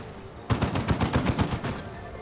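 A rapid burst of gunfire from the Dawn of War 2 strategy game, about a dozen evenly spaced shots in quick succession, crisp and moderately loud after a quiet start.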